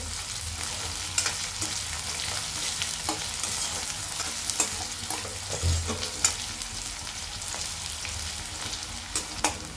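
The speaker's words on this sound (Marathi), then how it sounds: "आता कांद्याला चांगलं परतून घेऊ।" Onion stir-fried in hot oil in a kadhai with mustard seeds gives a steady close sizzle broken by scraping spatula strokes and occasional clinks over about ten seconds, with no talking.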